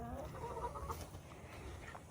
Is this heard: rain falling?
no